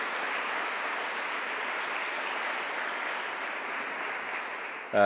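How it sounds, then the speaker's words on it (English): Steady audience applause from a large crowd at a talk on cities and climate action, dense clapping sustained evenly throughout before a brief louder burst at the very end. "actually give him a round of applause because he does such amazing work"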